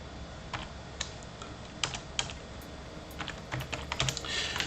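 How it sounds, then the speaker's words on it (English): Computer keyboard typing during a live channel-support stream, a loose run of light clicks and short bursts of keystrokes, fairly close but soft, over a steady low background hum with no talk. "I'm typing silly things here."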